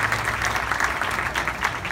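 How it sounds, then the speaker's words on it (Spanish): Steady applause from a crowd at a civic ceremony honoring citizens who donated three patrol cars, many hands clapping at a moderate distance with a faint low hum underneath. "Vamos a brindarles un fuerte aplauso a los ciudadanos que nos han donado 3 patrullas"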